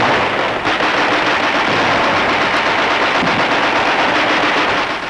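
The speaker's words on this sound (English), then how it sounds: "Those shells are landing in Germany" Artillery shells landing during 1944 World War II fighting along the German frontier, a loud dense rumbling barrage of rapid blasts with no pause, heard as newsreel sound without narration.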